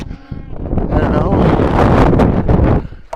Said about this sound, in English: That wind has been just a bugger.